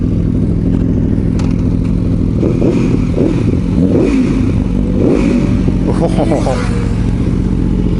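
An Aprilia Tuono Factory V4 1100 motorcycle pulls away with a steady mid-pitched engine drone that rises in revs, close and loud, while a rider briefly exclaims over it.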